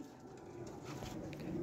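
A Kasuri pigeon coos softly in a low, rolling murmur, faint and close against quiet background noise.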